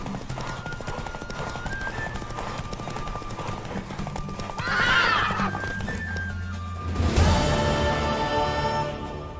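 Rhythmic clip-clop of a mare's hooves in The Witcher 3 video game, with a loud neigh midway and another whinny near the end, over a sustained musical backdrop.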